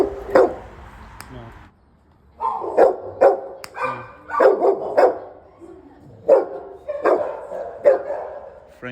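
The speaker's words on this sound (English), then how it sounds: "you hear the type of barking" A dog at a municipal dog pound barks in sharp, loud, close bursts, several barks in quick clusters separated by short pauses, with a brief quieter gap early on.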